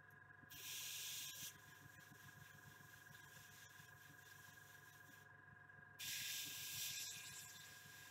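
An airbrush sprays paint onto Warhammer miniatures, such as Daughters of Khaine and T'au figures, in two short bursts of close, bright hiss. A steady mechanical hum runs underneath throughout.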